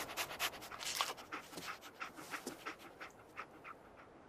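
The dog companion in the video game Fallout 4 pants softly in a quick, even rhythm of short breaths, heard faint and close with no speech over it.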